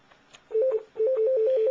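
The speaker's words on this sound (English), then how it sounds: "you're going to hit the voicemail button" Button presses on a ShoreTel desk phone's voicemail key, producing short electronic tone beeps in a quick repeating pattern, close and clear with no talking.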